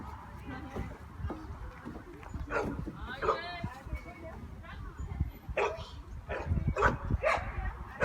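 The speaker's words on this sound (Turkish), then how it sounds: "Orada kocaman bir köpek var." A dog barks and yips in short bursts, mixed with whimpering, while people talk nearby in a park.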